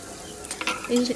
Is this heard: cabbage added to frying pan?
yes